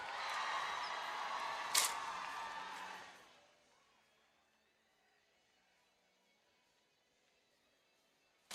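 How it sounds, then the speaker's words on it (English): A crowd at a FIRST robotics state championship cheers and shouts for the Blue Alliance, a loud broadband roar that fades to quiet after about three seconds. "Make some noise if you're cheering for the Blue Alliance"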